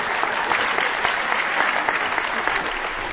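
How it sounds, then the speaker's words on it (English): An audience at a talk about competition applauds: dense, steady clapping from many hands, loud and even throughout, with no voices over it. "I don't know if you're applauding the questioner or me"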